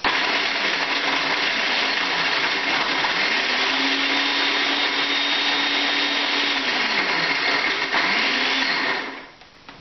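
A blender pulses cookies into fine crumbs for edible soil, with a loud steady whirring motor that runs for several seconds and then winds down, with no talking.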